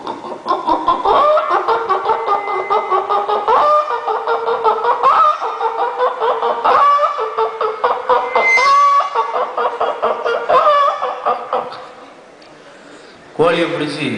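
At a 2012 mimicry show at St. Xavier's in Thoothukudi, Tamil Nadu, a performer's voice imitates a chicken being chased and caught. Loud, frantic clucks and squawks run almost nonstop, then a brief pause before a final burst.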